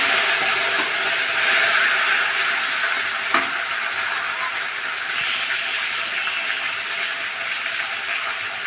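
Spice paste hits hot oil with whole coriander for a Bengali boal fish curry, giving a bright, close sizzling hiss that slowly eases while a utensil stirs and taps once against the pan.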